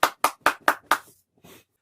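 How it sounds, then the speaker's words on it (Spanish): A few sharp claps for Johannes Gutenberg, five quick evenly spaced hits followed by a softer sixth after a short gap, close and dry with no crowd behind them. "Un aplauso para él."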